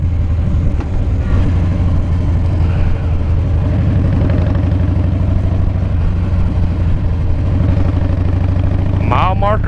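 A Harley-Davidson Softail Springer motorcycle rumbles along at a steady pace with a low, continuous engine drone, and other riders are close by on the road.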